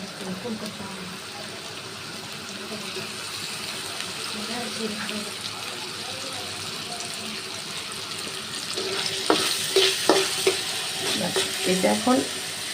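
Steady hiss of food frying in a pan, with louder crackles and sizzling bursts toward the end and a few clinks of utensils.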